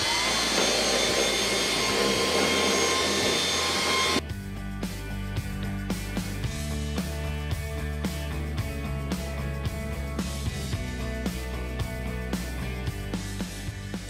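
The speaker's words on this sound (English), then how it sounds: "So I just need to vacuum those up because they're all over the living room." A vacuum cleaner picking up leaves blown onto a living room floor, a loud steady whine that shifts abruptly in tone after a few seconds and keeps running with faint rattling pickups.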